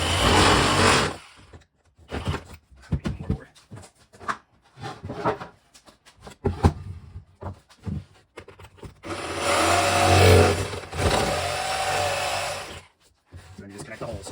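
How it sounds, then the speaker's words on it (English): A jigsaw cuts through Palisade groutless shower tile during a shower renovation, its buzzing motor starting and stopping in bursts, with a long loud run near the end. "Then just take your jigsaw and cut it out."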